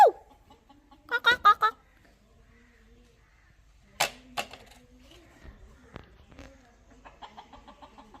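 A rooster crows at the start of a quiet outdoor morning scene, loud and close, followed by scattered clucks, sharp knocks and occasional faint voices.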